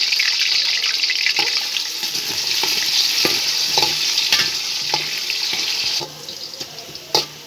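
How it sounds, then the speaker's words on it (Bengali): Potatoes fry in hot oil in a pot for beef biryani. A steady, close sizzle is broken by occasional clicks and scrapes from stirring, and it drops quieter near the end. No one speaks. "তেলটা গরম হয়ে গেছে এবার আমি আলুগুলো ভেজে নেব"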